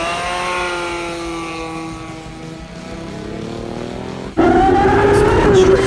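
A 700+ horsepower nitrous Suzuki Pro Mod drag bike roars down the strip, heard close on board; the engine's whine climbs steadily in pitch, then jumps to a sudden, louder surge near the end.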